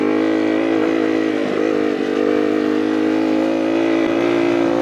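A Honda CR80 dirt bike, converted and ridden on muddy ground at Lake El Reno, drones at quarter throttle, a steady buzzing two-stroke tone that runs unevenly and sounds unhappy throughout.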